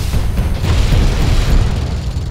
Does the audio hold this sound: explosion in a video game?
yes